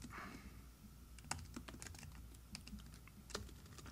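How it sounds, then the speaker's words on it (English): Fingers type on a computer keyboard in short irregular bursts of sharp clicks, close and quiet with no voices. "If I can type correctly"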